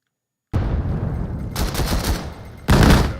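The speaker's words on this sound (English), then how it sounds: "The nades getting thrown out here. A bombardment coming through" Grenades and an incoming bombardment in the VAIL video game: several sharp explosive bursts and rattling blasts. The first starts abruptly after a short silence, and a louder burst near the end caps a rumbling barrage. No one speaks.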